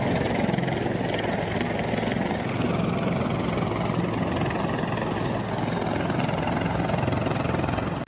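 A rescue helicopter flies over flood-stricken eastern Spain, its rotor and engine producing a loud, continuous whirring drone that holds steady throughout with no voices.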